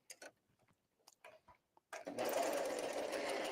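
Sewing machine stitching a shirring seam with elastic thread, a few soft clicks and handling taps first, then the motor starts into a fast, steady, close mechanical whirr.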